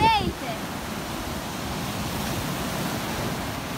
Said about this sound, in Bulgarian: Ще вземем огромни вълни!